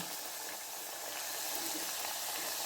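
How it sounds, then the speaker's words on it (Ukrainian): Khrustyky, thin Ukrainian fried dough pastries also called verhuny, frying three or four at a time in hot oil, giving a steady, close, dense sizzling hiss that swells slightly throughout, with no talking. "Смажаться вони дуже швидко."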